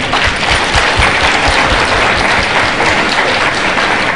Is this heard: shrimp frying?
no